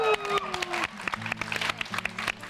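Applause at a Taiwanese talk show interview, a burst of clapping from studio guests and audience rising over faint voices, with a steady patter of hand claps through the short stretch.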